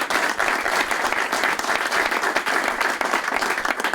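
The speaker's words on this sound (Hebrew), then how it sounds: "מגיע לו מחיאות כפיים." An audience at a Talmud completion celebration claps steadily and loudly for the full stretch, with dense, even applause and no voice over it.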